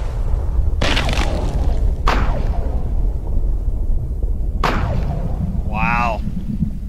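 A .28 caliber rifle fires in the hunting game Cabela's Big Game Hunter Pro Hunts. It sounds as a few sharp, loud cracks with short tails over a steady background bed, alongside a brief whistling call.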